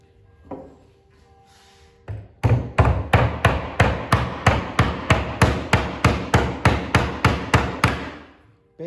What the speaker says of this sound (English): You're gonna have to alternate hammer blows. Hammer here, here, here, here, here, here, until you drive it flat.